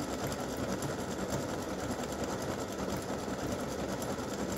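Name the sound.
embroidery machine stitching a breast cancer awareness ribbon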